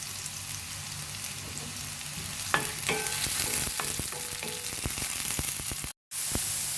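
Ginger, onion and carrot sautéing in a pan for a chicken cutlet, a steady soft sizzle with scattered stirring taps and scrapes, briefly cut off near the end.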